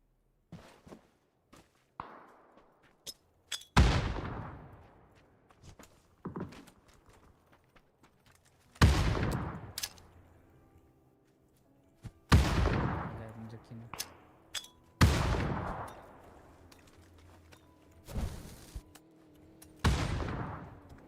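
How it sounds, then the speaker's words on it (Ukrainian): Sharp gunshots crack out every few seconds in the video game PUBG, some loud and close, others fainter and farther, with quiet gaps and small clicks between them. "По ньому стріляють."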